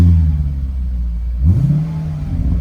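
A Genesis V8 fitted with an aftermarket exhaust revs close by, a steady low rumble swelling into a rising rev partway through, with no talking.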